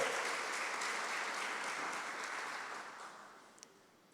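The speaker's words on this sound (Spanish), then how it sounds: "Dale un aplauso a Jesús." A church congregation claps steadily in a broad wash of applause that gradually fades away.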